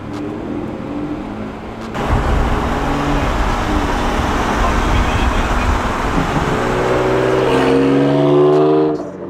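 A BMW M4's engine pulls hard under acceleration from inside the car, a loud sustained roar that rises in pitch toward the end, with voices talking over it.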